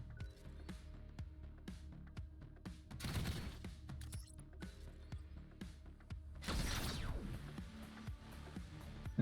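Robot units fire weapons in the turn-based tactics game Freenergy: rapid, faint clicky shot bursts recur throughout, with two louder rushing blasts around the middle and end.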